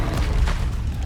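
A Confringo explosive spell blast in Hogwarts Legacy, a deep, sustained booming rumble filling the whole moment, loud and close with no talk over it.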